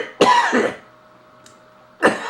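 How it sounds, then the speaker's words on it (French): A person coughs in a harsh burst of two quick rough coughs close to the microphone, then a short quiet pause and a third cough starting again at the end, with faint room hum between. "Excusez, si je tousse"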